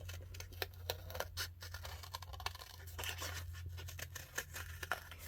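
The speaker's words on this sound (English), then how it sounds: "the cardstock is a little bit more challenging to cut, but it's stronger" Tiny scissors snip through heavier-weight cardstock while cutting out a paper tiger, giving quiet, close, irregular crisp cuts and scrapes with no talking.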